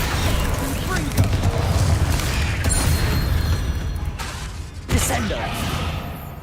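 Confringo spell blasts in Hogwarts Legacy, a burst of fiery booms and crackling impacts layered over game effects, with a sharp louder explosion near the end and a voice shouting spell names throughout.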